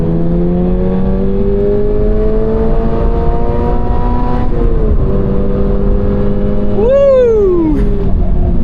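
A 2026 Toyota GR86 on the Sonoma race track, its engine droning steadily at high revs, then a quick blip and rising rev sweep during a downshift without automatic rev matching, loud and close from inside the cabin.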